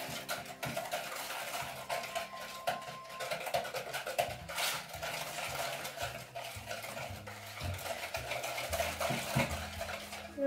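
Spoon or whisk beats a frangipane filling in a bowl, giving continuous, rapid scraping and clinking against the bowl, close and steady throughout without speech.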